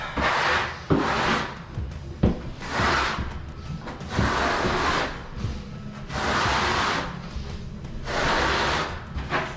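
Steel trowel smoothing mortar for shower tile, a rough scraping rub repeated in several long strokes with short pauses between, close and fairly loud with no talking.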